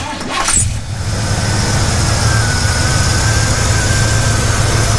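A 1981 Pontiac Trans Am WS6 with the 301 Turbo engine cranks and catches, then settles into a loud, steady, low idle that carries on close by with no voices.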